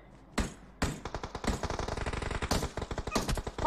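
Rapid automatic gunfire in PUBG Mobile, loud bursts of dense rattling shots after a couple of single cracks, continuing to the end with no speech.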